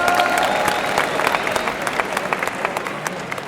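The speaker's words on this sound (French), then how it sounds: "quelques applaudissements pour Tristana s'il vous plaît" Audience applauding a cosplay performer at an e-sport event's cosplay contest in Lyon: dense, steady clapping from a crowd, fairly loud and continuous, with a few faint voices mixed in.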